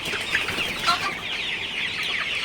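Sonali hybrid chickens, a 47-day-old farm flock, cluck continuously in a busy chorus of overlapping calls close by with no talking.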